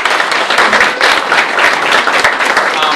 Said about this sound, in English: So how about another round of applause?